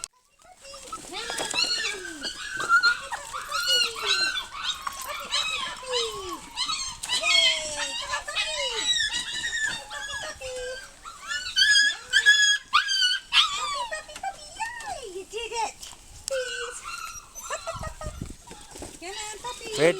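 A litter of seven-week-old puppies whimpers, yips and barks almost nonstop, a dense, close chorus of squeaky cries and sharp yelps while a person talks over them.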